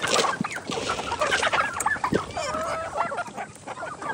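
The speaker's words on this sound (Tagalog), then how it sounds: "At yung iba nating mga manok, andyan sa ibabaw." Chickens cluck and call in a backyard coop on a small poultry farm that also keeps turkeys and geese, a busy, overlapping chorus of clucks with a few sharper squawks, fairly close and continuous with no talk.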